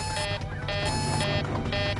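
A cockpit alarm on the airliner of Flight 522 sounds as a loud, steady electronic tone repeating in pulses of about half a second, running without pause over a low engine drone.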